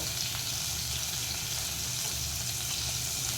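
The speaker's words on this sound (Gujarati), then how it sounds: "હવે આ લીલા મરચાં છે એ વઘારમાં આપણે એડ કરીશું અને થોડીક હિંગ એડ કરી દેવાની" Green chillies and asafoetida sizzle in hot oil as a tempering for pakora kadhi, a steady, close, dense crackle that holds evenly throughout with no talking.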